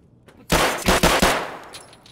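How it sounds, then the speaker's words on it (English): Gunfire in Escape from Tarkov during a Factory raid, a rapid burst of several loud, close shots in quick succession that then fades into a short echoing tail. "Someone shooting at you."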